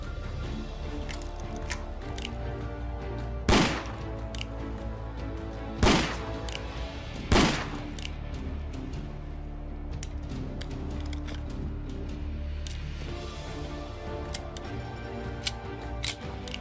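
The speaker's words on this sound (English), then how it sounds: "the Remington New Army Revolver, a classic revolver with some fancy fitting animations." A Remington New Army Revolver in Fallout 4 plays over a low game ambience, with three sharp, loud gunshots spaced a couple of seconds apart amid lighter metallic clicks and ticks of handling animations.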